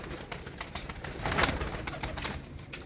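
Desi pigeons coo softly and steadily over a faint, noisy background, with no voices present.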